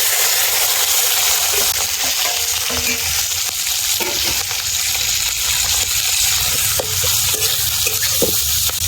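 Dry red chillies and whole cumin seeds fry in mustard oil, giving a loud, steady sizzle with faint spatula scrapes and small clicks through it.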